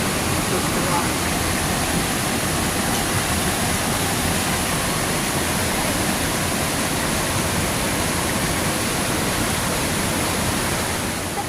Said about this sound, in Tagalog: Sa pinakalas nga waterfalls.